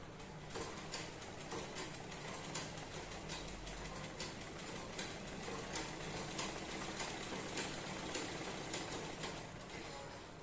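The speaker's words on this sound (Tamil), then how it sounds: "நான் அப்படியே ஸ்லோவாகவே தைச்சி போகிறேன்" A sewing machine runs slowly and steadily while stitching the neckline of a frock, giving a faint continuous mechanical hum with soft regular ticking throughout.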